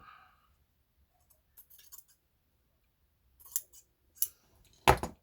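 Scissors snip through cherry blossom stems, a few sharp, separate cuts toward the end after a quiet start, close and fairly loud.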